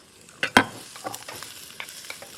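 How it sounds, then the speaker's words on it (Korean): Acorn jelly and zucchini are stir-fried in a pan, giving a few sharp scrapes and clacks of stirring over a low, steady sizzle, close and moderately loud with no voices. "다 넣고 볶는데 그냥 볶지 마시고 요거랑 같이 볶아주세요"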